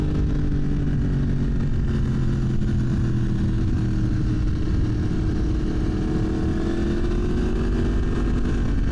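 A Yamaha MT-10 motorcycle accelerates hard, its engine note loud and close with a steady rising roar under wind buffeting throughout.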